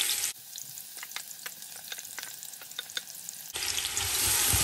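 Onions in large chunks frying in plenty of oil in a pot, a bright loud sizzle that drops away to a quieter crackle with scattered pops, then surges back at full strength.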